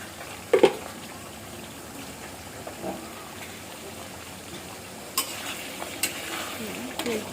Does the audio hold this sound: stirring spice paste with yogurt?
yes